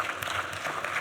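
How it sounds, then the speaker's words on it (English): Brief burst of audience clapping at the close of a conference session on African independent artists, a dense, even patter lasting about a second. "A round of applause for all of you"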